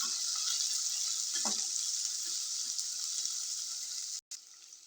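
Onions frying in oil with mustard seeds for a chicken gravy, making a faint, even sizzle that cuts out briefly near the end.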